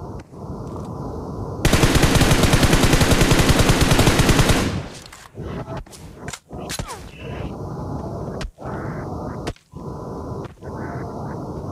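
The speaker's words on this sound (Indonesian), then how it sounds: "orang-orang pada nembakin gua" Rapid automatic gunfire in PUBG Mobile bursts loudly for about three seconds, then trails into scattered shots and game sounds while the player is under fire.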